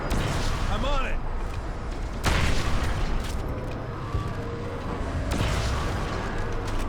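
Heavy gunfire and booming blasts from combat in the video game Crysis: loud sustained shooting with several sharp bursts and impacts, close and dense, with voices speaking over the battle noise at times.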